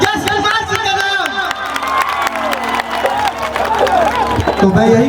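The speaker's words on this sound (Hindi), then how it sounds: "तो जोरदार ताली" A large crowd at a Bhojpuri stage event claps and cheers loudly for several seconds, with whistles and shouts over a continuous roar of applause.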